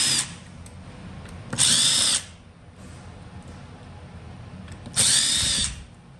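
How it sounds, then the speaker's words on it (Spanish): A power drill whirs loudly in two short bursts about three seconds apart, removing screws from a steering module board, with quiet rustling and handling noise between them. "Vamos a accionar con el taladro más rápido"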